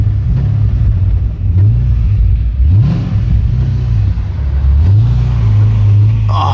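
A low Audi R8 engine hums and rumbles as the car creeps up a steep driveway, with the pitch rising and falling through several gentle rev swells, close and fairly loud.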